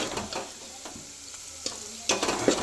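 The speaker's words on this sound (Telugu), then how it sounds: "మనం నూనెలో పప్పు వేసాం కదా, దాన్ని వేయించుకోవాలి మంచిగా" Lentils frying in oil for a spinach and dal tempering, a soft sizzle with scraping stirs and clinks of a spoon against the pan, close and fairly quiet.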